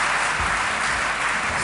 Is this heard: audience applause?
yes